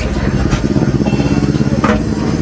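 A motorcycle engine runs nearby as a loud, steady, low rumble that fills the whole stretch, with a few brief higher noises on top.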